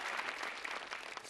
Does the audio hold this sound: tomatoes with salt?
no